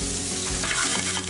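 Striped bass fillet with capers, asparagus, thyme, shallot and garlic sizzling loudly and steadily in a hot frying pan, a dense continuous crackle close by.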